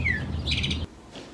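Songbirds chirp and tweet outdoors near seedlings set out for hardening off, with a wind chime nearby; short bright calls ring out, the first a clear falling whistle, over a low breezy background that drops away near the end.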